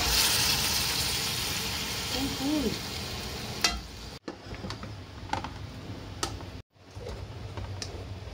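Beef stir-frying with green chilies, sweet and salty soy sauce and black pepper, a dense sizzling hiss with the clatter of stirring, broken by a couple of abrupt cuts.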